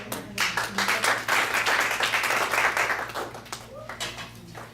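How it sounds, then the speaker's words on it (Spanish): An audience at an evening church Bible study applauds to welcome a speaker, a burst of steady clapping that swells and then tapers off, with some voices mixed in. "lo recibimos con un aplauso en esta noche"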